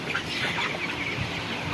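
Broiler chickens on a poultry farm make a steady, low murmur of soft clucks and chirps throughout, close by and unbroken, with no voice.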